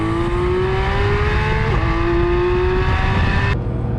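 Porsche 911 GT3 (991.2) flat-six revving hard toward 9,000 rpm, a loud, close, sustained howl with a brief dip as a gear changes, then climbing again before cutting off near the end.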